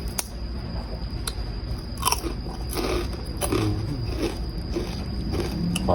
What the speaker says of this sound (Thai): แคบหมู